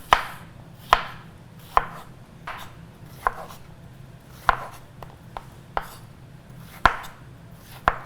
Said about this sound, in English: And you will want to cut it lengthwise. Cut it right down the middle. And then just slice it.